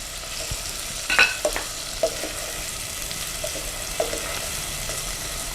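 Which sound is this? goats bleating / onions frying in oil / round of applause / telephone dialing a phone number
onions frying in oil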